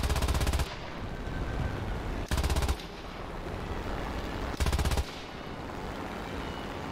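Aircraft machine guns on a bomber in War Thunder fire in three short, loud bursts, each under a second, separated by a steady engine drone.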